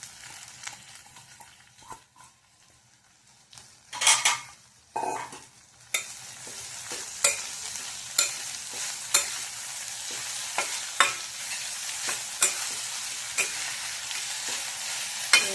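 Fenugreek leaves go into a pan of sautéed onion and are stirred and fried, a steady sizzle under repeated scraping strokes of a spoon at a regular rhythm, close and clear, with no talking.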